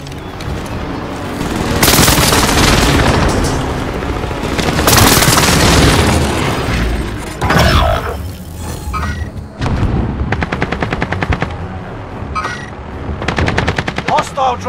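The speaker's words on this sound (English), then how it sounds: "Enemy precision airstrike." Heavy explosions and booming blasts from a precision airstrike in the video game Call of Duty: Modern Warfare, loud and sustained at first, then giving way to bursts of rapid gunfire.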